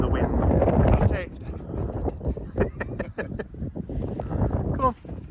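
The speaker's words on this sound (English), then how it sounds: "It's very windy today." Strong gusts buffet an outdoor microphone on a very windy day, producing loud rumbling bursts that rise and fall, with a person talking intermittently through the wind noise.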